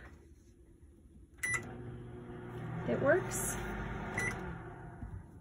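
A short electronic beep rings out from a microwave in a 2013 Rockwood HW296 camper, twice with a pause between, under a person talking in a small room.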